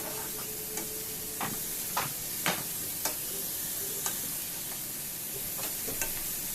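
Soft continuous sizzling hiss of tempering spices frying in hot oil for dal, with a few sharp crackles and pops scattered through, fairly close and steady.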